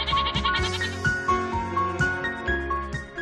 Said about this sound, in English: A female goat is called a doe and a male goat is called a billy.